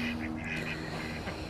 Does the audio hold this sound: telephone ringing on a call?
no